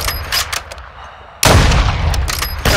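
Video game gunfire: a burst of loud, close shots in quick succession, then a short lull and another heavy volley, sharp and percussive with no talking.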